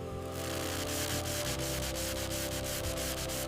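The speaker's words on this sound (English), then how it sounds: "This isn't just about making the wood smooth. It is a process of friction polishing." A carved giant redwood vase is sanded and friction-polished on a lathe, giving a steady, close rubbing hiss with a pulsing rhythm over a constant motor hum.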